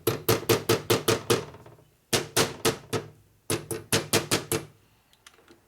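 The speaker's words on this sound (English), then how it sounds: "just lightly tap it down with a hammer" Hammer taps seating a bearing in a 1961 Harley-Davidson Sportster XLCH transmission during a motor rebuild, close and clear, in three quick bursts of five or six light metallic blows separated by short pauses.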